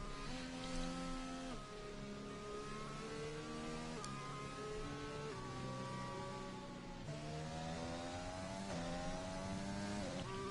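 A BMW race car engine at the Bahrain circuit drones and revs through gear changes, pitch sweeping up and dropping as it brakes late into a turn, loud and sustained with no talk.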